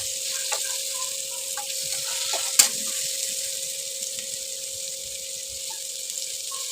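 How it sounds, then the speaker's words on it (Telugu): Sliced bitter gourd and onions fry in a pan with a steady soft sizzle, a low constant hum underneath and one sharp clink of a utensil partway through. "కట్ చేసిన కాకరకాయలు వేసేసుకున్నాను వేసేసుకొని కాసేపు ఫ్రై చేసుకోవాలి"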